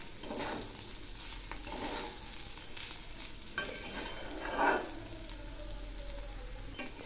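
Rice frying in a pan with salt and turmeric for khichuri is stirred in several scraping strokes over a steady background sizzle, close and moderately loud, with no talking.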